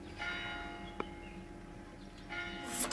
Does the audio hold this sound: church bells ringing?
yes